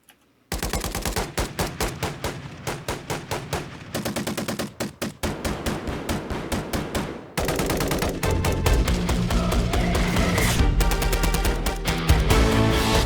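Rapid Call of Duty gunfire effects are edited into a rhythmic music track, with sharp automatic bursts and single shots firing in tight patterns that grow denser and louder toward the end.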